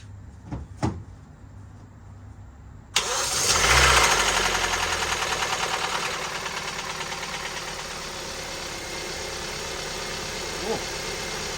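A 2017 Kia Optima engine under repair for rod bearings cranks with a sharp clunk, catches and settles into a steady idle with a light rattle at first, after a few small knocks beforehand; no talking.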